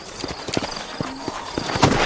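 Horse hooves clip-clop in Red Dead Redemption, a brisk run of sharp, evenly spaced hoof strikes close by, with a faint tone in the background.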